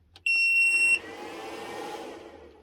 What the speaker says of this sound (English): I turn it on. It's a massive beep. The fan whirls and then it goes quiet.